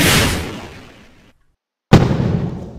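A G-Fireworks firework in Garry's Mod bursts loudly with a crackling sizzle that fades out into silence, followed by a second sharp explosion and crackle.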